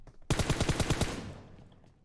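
Rapid burst of about eight gunshots from a video game, sharp and loud at close range, firing in an even automatic rhythm and then tailing off into a fading echo.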